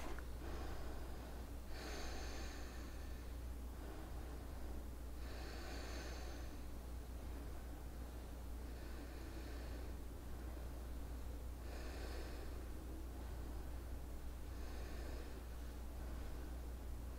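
Deep, slow breathing during a yoga floor exercise, with breathy inhale and exhale swells roughly every three to four seconds over a steady low background hum.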